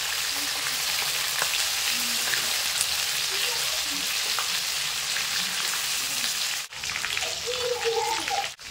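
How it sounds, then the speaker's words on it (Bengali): Flipped chicken chaap pieces frying in a pan of oil, a continuous close sizzle with soft stirring clatter, a short dip near the end and faint voices at moments. "দেখো এগুলো কিন্তু উল্টে ওই একই রকম ভাবে ভেজে নেব।"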